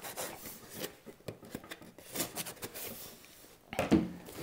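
A knife cutting open the packaging of a newly delivered gun makes close, irregular scraping and rasping strokes on cardboard, with a louder rustle near the end.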